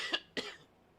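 Two quick, close coughs in a row, the second a bit stronger, followed by quiet.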